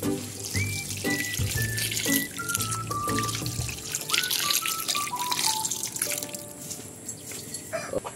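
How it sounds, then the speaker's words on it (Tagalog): Water poured into a pot of pork paksiw with tulingan while it cooks, a steady trickling and splashing stream over faint sizzling and clinks, fairly quiet and close. "At magdagdag lang po tayo mga idol ng tubig para pampalambot sa ating baboy."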